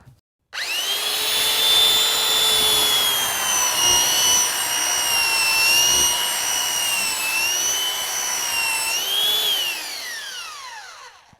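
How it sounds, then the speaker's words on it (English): A belt power sander with a 40 grit belt grinds across rough timber, a loud, steady whine with wavering tones that starts abruptly, runs for about ten seconds, then winds down as it is switched off. "always keep the sander moving at all the times, otherwise it's going to start digging down."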